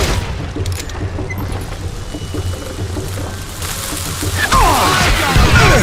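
Dynamite explosions in the Western shooter game Call of Juarez Gunslinger, heard as loud, deep rumbling booms rolling over one another with crackling debris and scattered gunfire-like bursts, with no speech over them.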